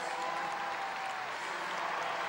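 A stadium crowd of supporters applauding and cheering at the 2006 Commonwealth Games women's marathon finish, a steady wash of clapping and roar that holds evenly throughout, broad and distant.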